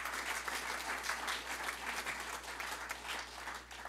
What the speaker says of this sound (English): I think we deserve another round of applause for that.